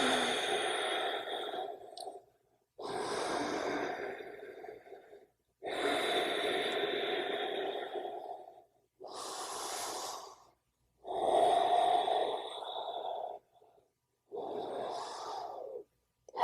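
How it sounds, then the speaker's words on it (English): About seven slow, deep breaths are drawn and released during a yoga session, each one close and soft and separated by short pauses of silence. "Finding your breath. 4 beautiful, deep, juicy breaths here."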